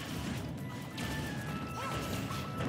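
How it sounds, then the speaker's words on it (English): R.O.B.'s down smash lands in a Super Smash Bros. doubles match, a sharp crash heard over the dense, continuous roar of game sound and crowd noise. "And you're actually gonna see Rob down smashing at the top."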